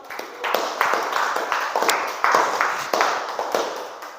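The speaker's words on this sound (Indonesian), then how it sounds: "Ya, kasih tepuk tangan untuk teman kita semua." Students in an Indonesian classroom clap for their classmates after a discussion, a medium group of hands beating in a loose, lively rhythm, close and steady throughout.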